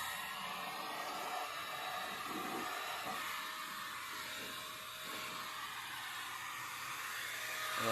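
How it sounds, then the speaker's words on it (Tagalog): A blower blasts air into the chamber of a cooking stove to clean it out: a loud, steady rushing roar that holds without break throughout, with faint rattling underneath. "tinututukan ko na lang po ng blower yan"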